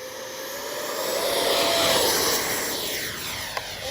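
A Freewing Red Hawk T1 70mm electric ducted-fan RC jet plane whooshes past outdoors, its whine rising and then fading as it flies by, with no talking.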